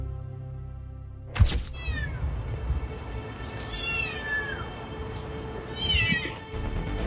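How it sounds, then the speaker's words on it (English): A small kitten meows three times from inside a trailer, high and plaintive, with pauses between cries over a low background rumble. "A man heard some meows from inside the trailer."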